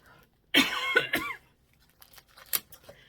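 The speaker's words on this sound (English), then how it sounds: "And I'm going to cough." A close, harsh cough burst with a throat-clearing rasp, followed by quieter shuffling and small sounds.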